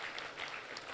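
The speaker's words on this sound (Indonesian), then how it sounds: "tepuk tangan untuk para bupati dan wali kota kita" Faint, brief applause from an audience at a South Sumatra provincial government coordination meeting, honouring regents and mayors; scattered claps blend into a soft, continuous patter.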